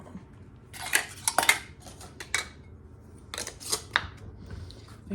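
A metal canning lid ring is twisted onto a glass jar of homemade jellied cranberry sauce, producing a series of small metallic clinks and scraping clicks in two clusters, close and fairly quiet, with no talking.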